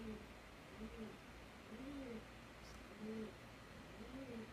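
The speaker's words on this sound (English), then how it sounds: "That's my pigeon." A pet pigeon coos softly nearby in a quiet room, a repeated series of low, rolling two-part coos in a steady rhythm, faint and alone without talking.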